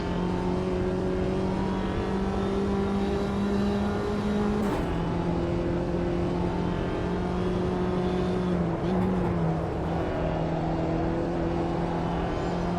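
A JCW Mini race car engine in the Automobilista 2 sim racing game at Snetterton 300, a steady sustained drone with slight pitch shifts, loud and continuous with no talking.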